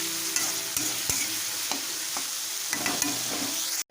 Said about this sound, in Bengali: এখানে আলুগুলো দিয়ে দেবো, একটু ভেজে নেবো, একটু ভালো করে কষিয়ে নেবো মশলাগুলো, আলুগুলো কষিয়ে নেবো